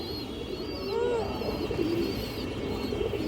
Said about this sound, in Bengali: এই দেখেন কবুতরটা মাসাল্লাহ খুব সুন্দর একটা কবুতর